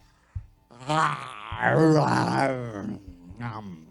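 A man imitates a lion yawning with his voice, making a long, loud, groaning moan that swells and fades and then trails into a shorter groan at the end.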